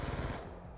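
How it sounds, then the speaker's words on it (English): A rapid burst of Scorpion Evo hipfire from Black Ops 2, a quick rattling string of gunshots lasting under a second, fairly quiet. "No man has ever withstood the sheer power of the hipfire scorpion Evo."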